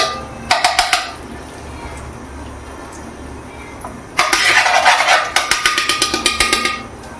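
Ghee hitting a hot kadai for mutton biryani. A short crackle comes first, then after a quiet stretch a loud, broadband sizzle bursts out with rapid popping before tapering off.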